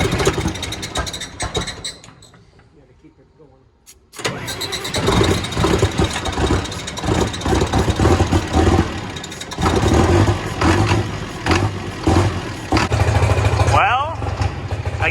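A John Deere 9620RX tractor engine hard starting: near silence, then a loud diesel catch and a steady heavy rumble with mechanical clatter, under voices.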